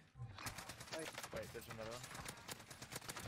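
Call of Duty gunfire on Rebirth Island rattles in continuous automatic bursts, fairly quiet overall, while a voice talks over the shooting.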